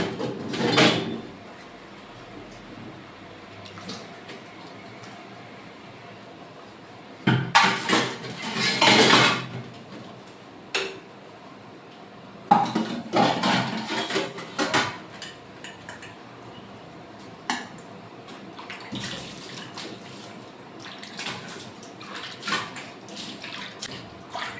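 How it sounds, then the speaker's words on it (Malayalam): Dishes and pots being washed in a home kitchen under running tap water, with steady water flow broken by several loud clattering bursts of metal and crockery knocking together nearby. "ഇനി കുറച്ച് പാത്രങ്ങളൊക്കെ കഴുകാനുണ്ട്. അതൊക്കെ ഞാൻ വേഗം കഴുകി വെക്കുകയാണ്."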